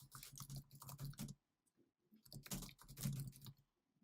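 Quiet, rapid clicking of computer keyboard keys comes in two short bursts with a pause between them, close to the microphone.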